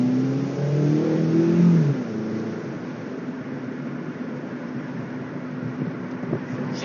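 A car accelerates hard during a racing-driver style manoeuvre, its engine note climbing in the first couple of seconds, then settling into a steady, loud road roar with no talking.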